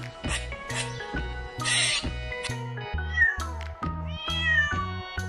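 A cat meows several times, with short and drawn-out mews spread across the clip over a steady musical backing.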